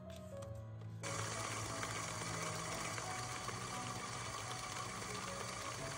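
An electric hand mixer beats four whole eggs in a bowl on medium-high speed. A loud, steady motor whir starts after about a second and runs on without a break.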